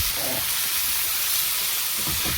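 Spices and salt fry in a hot pan with a loud, continuous sizzle and steamy hiss, close up and unbroken for the whole moment, with no talking over it.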